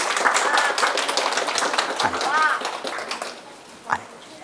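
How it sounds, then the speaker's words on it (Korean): An audience at a science lecture on soap bubbles gives scattered applause to welcome the lecturer, a short round of clapping under a voice and some background noise, thinning out toward the end. "박수로 맞이해주세요."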